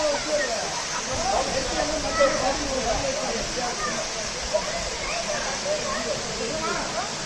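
Kone Falls (Kailasakona), a hidden waterfall near Chennai, gives a steady broad rushing wash of falling water under continuous talk, with a few brief louder bursts.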